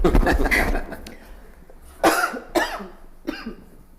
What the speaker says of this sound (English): I'm going to end my comment because I'm going to keep coughing.